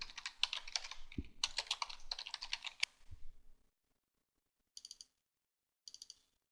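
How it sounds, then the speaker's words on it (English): Someone types on a computer keyboard in two quick bursts of close, crisp key clicks. After a pause come two short pairs of taps, set against a quiet, otherwise silent room. "hopefully I can type this time"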